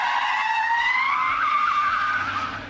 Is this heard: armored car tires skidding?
yes